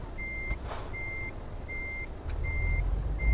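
Reversing beeps from a truck in the driving game Euro Truck Simulator 2 repeat evenly, five steady tones with an engine rumble beneath that grows slightly louder toward the end.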